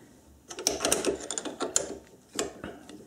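Chuck keys work the jaws of a 4-jaw lathe chuck, loosening one and tightening another, producing quiet irregular metallic clicks and ratcheting taps in short bursts, close and faint.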